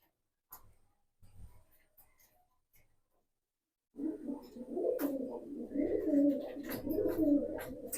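Jabra Pankhi pigeons coo in a steady, close chorus of soft throaty calls that start after a few seconds of faint knocks and near silence.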